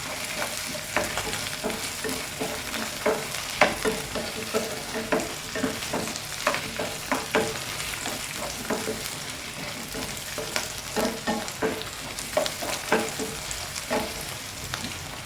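Four dried red chillies fry in hot oil in a pan, a steady close sizzle broken by frequent sharp crackles and pops, with a stirring scrape now and then and no voices.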